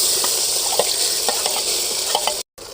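Steady, loud sizzling of spices frying in hot oil for drumstick leaves chutney, with a few soft pops and stirring clinks, briefly cutting out near the end.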